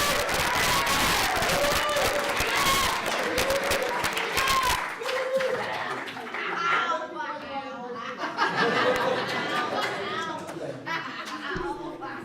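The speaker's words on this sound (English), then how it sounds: "You got the biggest applause" Applause for two coaches at a town board meeting, a dense burst of clapping mixed with crowd chuckles and chatter that thins out midway into laughter and talking voices.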